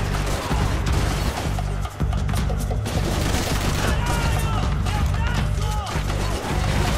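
Gunfire in the video game Max Payne 3, a rapid fusillade of shots and booms packed closely together, loud and continuous throughout.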